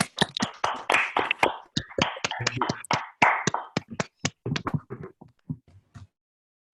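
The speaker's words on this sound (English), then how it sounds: "hopefully we can clap to thank these people" A group of people on a video call clap together in quick, uneven bursts that thin out to a few scattered claps before stopping.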